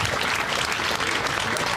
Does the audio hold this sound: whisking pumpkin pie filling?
no